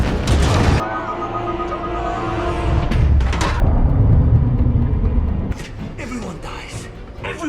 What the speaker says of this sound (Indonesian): Dan kemudian kapal selam itu meledak.